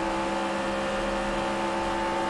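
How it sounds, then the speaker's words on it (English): A stock car's engine drones at high, steady revs in the NASCAR Racing 2003 game at Kansas, a loud sustained whine throughout without any talk. "you can hear that engine singing"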